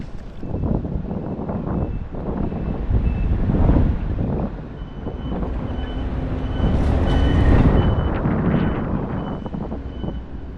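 Strong wind buffets the microphone in a continuous, gusty rumble, swelling and easing over several seconds with no one speaking.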